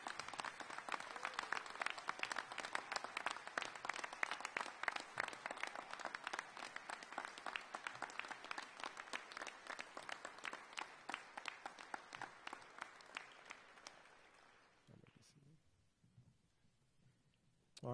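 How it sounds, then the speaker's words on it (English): Sustained audience applause at a fire recruit class graduation ceremony, dense and steady clapping for about fourteen seconds before fading out into near silence with a few scattered sounds. "You can clap."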